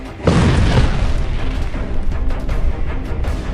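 An artillery gun fires with a single heavy, close boom that hits hard and then rolls on in a long rumbling decay, with no voices.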